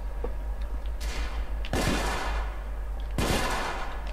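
Gunfire in The Order 1886, loud broadband shots and bursts over a constant low hum, with two heavy blasts standing out among lighter scattered firing.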